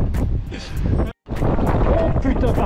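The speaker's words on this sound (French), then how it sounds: "par contre il y a un vent" Strong crosswind on a mountain descent buffets the microphone with loud, continuous roaring gusts, broken by a brief dropout, while a voice talks underneath.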